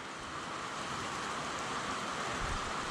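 Steady rain falls outdoors as an even, continuous hiss that holds at a moderate level throughout, with no voices.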